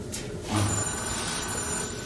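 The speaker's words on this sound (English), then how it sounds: "The phone's ringing." An office telephone rings in a short burst of bright, rapid bell trills, clear and fairly close, with no talking over it.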